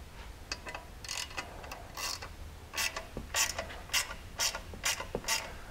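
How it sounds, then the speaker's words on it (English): A ratchet wrench tightens a skid plate bolt on a CFMOTO ZF800 four-wheeler, with repeated close bursts of clicking strokes and short pauses in between, growing steadier toward the end. "And then we can tighten down the bolt."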